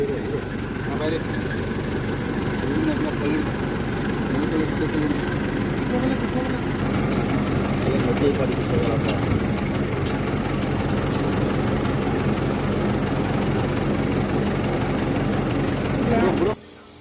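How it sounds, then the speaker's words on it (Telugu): A bore well pump motor runs with a continuous low mechanical hum and faint knocking while someone talks, then it cuts off abruptly at the end. "మోటార్ అయితే ఆన్ చేశారు"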